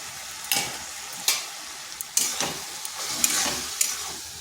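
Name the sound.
spice paste being fried and stirred in pan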